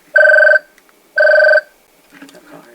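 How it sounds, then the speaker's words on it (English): A phone rings twice in loud, bright electronic bursts with a short gap between them, followed by a brief faint murmur of a voice. "Excuse me, my phone is ringing."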